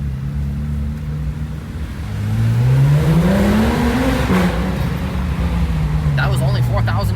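Porsche GT3 RS engine revving under a parking structure, a rising then falling rev to just under 4,000 RPM, loud and echoing close by.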